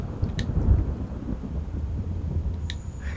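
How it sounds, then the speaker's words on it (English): Thunder from lightning in the Monster Hunter video game, in Wildspire Wastes. A low, rolling rumble swells early and then eases under faint wind, with no talking. "Did you hear that? The lightning."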